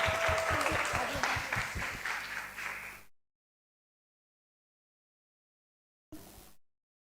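Audience clapping at a school storytelling contest, a burst of dense applause that fades over about three seconds before cutting to silence, then a brief return of clapping.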